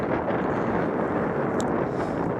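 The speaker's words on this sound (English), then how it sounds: "It's a shame it's so windy." Strong outdoor wind buffets the microphone at a scenic spot, producing a continuous low rumbling blow that rises and falls slightly, with nobody speaking.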